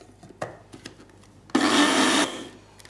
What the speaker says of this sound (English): I'm just going to add the powdered ginger into there,